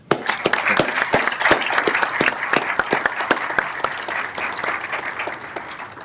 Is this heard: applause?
yes